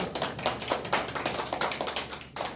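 A church congregation claps in welcome for a young ministry worker, a brisk burst of many hands with dense, even rhythm, fairly close and moderately loud with no talking.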